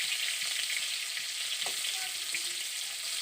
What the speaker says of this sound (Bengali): তো পটলের গায়ে হালকা হালকা ছেঁকা লেগে গেছে আর একটু ভালো করে ভেজে নেব